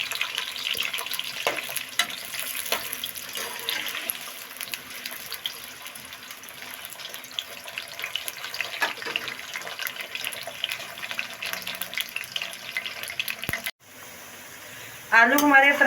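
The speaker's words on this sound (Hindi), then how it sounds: "आलू हमारे फ्राई हो गए हैं।" Potatoes frying in hot oil in a pan, giving a steady, dense sizzle that fills the scene, with faint stirring knocks, a brief drop near the end and then a louder burst of bubbling.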